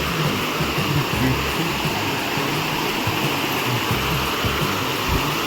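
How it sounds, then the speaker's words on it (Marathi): A waterfall near Wagbil, Badlapur roars in a constant, dense broadband rush, close and loud throughout, with faint voices underneath. "आवाज येत होता म्हणून म्हटलं आलो पुढे. खरोखरच निघाला धबधबा इथे."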